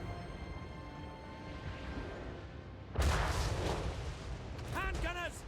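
Video game mortar fire, a heavy booming impact crashing in mid-scene followed by rumbling debris and sharp chirping game sounds, loud against a steady battlefield background with voices beneath.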